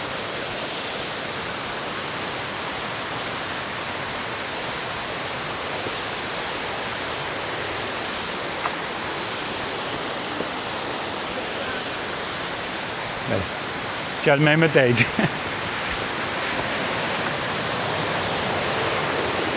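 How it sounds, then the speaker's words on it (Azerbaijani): Continuous broadband rush of a tall waterfall in Chiang Mai, Thailand, roughly 260 metres high and 100 metres wide, steady and loud throughout, with a brief burst of wind buffeting and a few words spoken near the end. "Belə bir maraqlı şəlalə."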